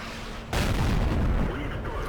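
A tank's main gun fires in the online tank battle game World of Tanks, a single loud, heavy boom that bursts in abruptly after a quieter lead-in and rolls away into a rumbling tail.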